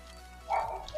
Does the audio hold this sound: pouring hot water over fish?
no